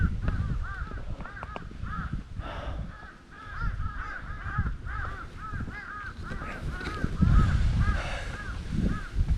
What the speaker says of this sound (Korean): 까마귀들이 울고 있네요.